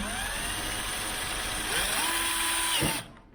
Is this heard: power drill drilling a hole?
yes